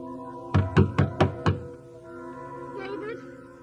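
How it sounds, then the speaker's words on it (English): Five firm knocks on a locked wooden door in a dim old house, evenly spaced and close, followed by quiet room tone with a faint voice-like murmur. "David, please unlock the door and let me out."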